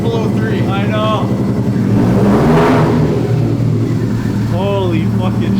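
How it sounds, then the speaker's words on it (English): A 2002 bugeye Subaru WRX engine fitted with Tomei UEL headers and an up pipe, revving loud and close with a steady throaty drone, rising through a peak mid-way as voices talk over it. "Alright boys, me and Hunter, we're going for a fucking rip real quick, test out new headers."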